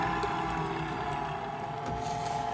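A stand mixer with a paddle beats cake batter on low speed, a steady motor hum and whir heard up close and continuous with no pauses or voices.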